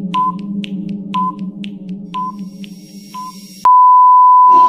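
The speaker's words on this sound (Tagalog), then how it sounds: "Timer starts now." A puzzle timer beeps in a steady series of short, evenly spaced tones over a low hum, then ends in one long, loud continuous tone.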